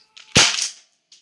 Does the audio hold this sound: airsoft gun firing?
yes